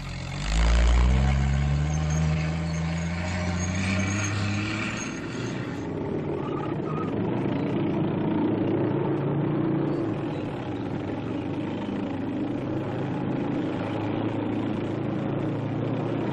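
An M29C Weasel light cargo carrier, a tracked vehicle, drives through deep snow, its engine droning steadily and loud throughout, with a low rumble swelling near the start and continuous mechanical roar without speech.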